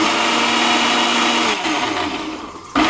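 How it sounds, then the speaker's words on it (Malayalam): A mixer grinder whirs loudly and steadily as it blends mayonnaise with added oil, the motor's even drone dipping in pitch before cutting off near the end. "ഇനി നമുക്കതിലേക്ക് കുറച്ച് ഓയിൽ കൂടി ചേർത്ത് ഒന്നുകൂടി ഒന്ന് അടിച്ചെടുക്കാം."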